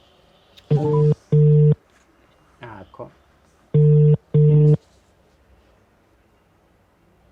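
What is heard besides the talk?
telephone dialing and ringing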